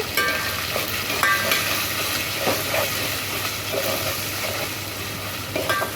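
Ginger garlic paste with turmeric frying in a pan gives a continuous close sizzle and hiss, with occasional light scrapes and taps of the spoon.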